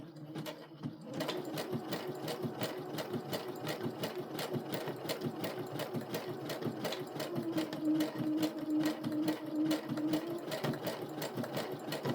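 A sewing machine runs steadily with black thread on navy blue fabric while repairing crop pants, sewing a very short stitch with a fast, even mechanical chatter that continues nonstop at close range.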